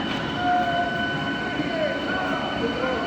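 An inaugural special train rolls into platform 4 at Krishnanagar City Junction, a loud steady rumble of wheels on rails with faint squealing brake tones from the cars, close by and unbroken.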